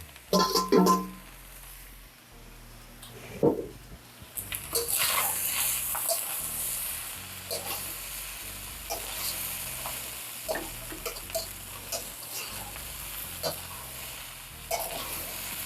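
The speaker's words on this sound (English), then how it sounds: "Now it's very critical that you keep tossing this around, because otherwise you're going to start getting rice burning here in the bottom" Shrimp fried rice with edamame stir-fried in a hot pan, loud continuous sizzling broken by repeated scraping and tossing clatters, a few sharp knocks near the start, with no talking.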